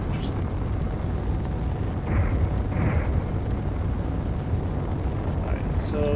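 Artillery fire in a space construction game, a continuous roaring barrage of booming blasts with a couple of louder swells partway through.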